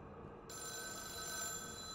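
An old telephone ringing in ruins in the video game The Town of Light: a steady, bright bell ring sets in suddenly and continues evenly over a quiet ambient background.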